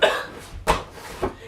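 Three short, sharp coughs close to the microphone, spaced about half a second apart, with no other sound between them.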